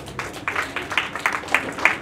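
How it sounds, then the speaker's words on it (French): Audience applause at a university panel on innovation and entrepreneurship, a short burst of scattered clapping from a moderate crowd, uneven and fairly soft, lasting about two seconds. "Donc, sous vos applaudissements,"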